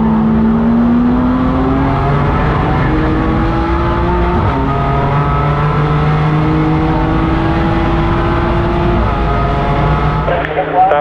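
Race car engine in a racing video game on a track in rough, punishing conditions, droning steadily at high revs with rising and falling pitch through gear shifts, loud and continuous throughout.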